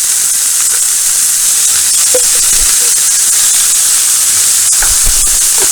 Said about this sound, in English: As those begin to cook down a little bit, we're going to hit this with a good spoon of garlic here.